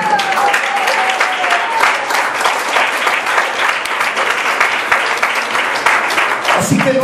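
Church congregation applauding, a loud, continuous roomful of clapping with rapid overlapping claps sustained for several seconds and a few voices faintly mixed in.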